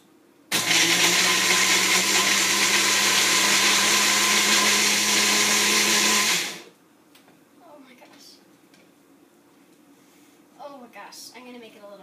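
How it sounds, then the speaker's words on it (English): A Magic Bullet blender whirs loudly and steadily for about six seconds, blending a smoothie of oysters, pickles, mini Oreos, mustard and olive oil, then cuts off abruptly, leaving quiet room noise with a faint voice afterward. "So now I'm just using the magic bullet and..."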